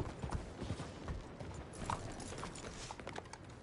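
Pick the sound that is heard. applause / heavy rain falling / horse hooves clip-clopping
horse hooves clip-clopping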